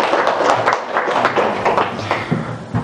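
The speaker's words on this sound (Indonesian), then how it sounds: "Tepuk tangan untuk ASKI." Students applauding a classmate in a cooking class, a brief burst of scattered hand claps close by, fairly loud and uneven.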